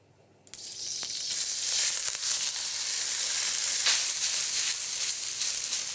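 Noodles drop into hot oil in a pan and set off a sudden loud hiss that holds as a steady, bright sizzle, with a few crackles over it.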